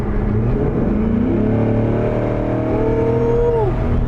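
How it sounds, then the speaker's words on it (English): A C8 Corvette engine revs as it is given gas, a loud, close rising whine over a steady low rumble, pitch climbing and then easing off, with no voices. "But I'm gonna give it a little gas right now just to see."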